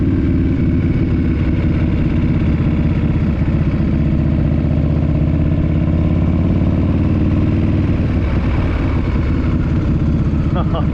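A 1992 Harley-Davidson FXR motorcycle engine runs loud and close, with a steady, lumpy, throbbing idle that continues without a break and picks up slightly near the end.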